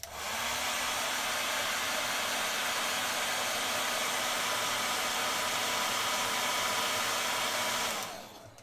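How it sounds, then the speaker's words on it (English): A hair dryer runs steadily and loudly for about eight seconds with a constant whooshing roar and faint motor hum, then cuts off abruptly near the end. "Hairdryer time, sorry."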